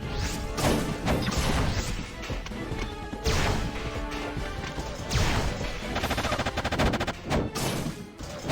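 Video game gunfire, a string of loud crashing shots and impacts in close succession over busy game music and effects, with no talking.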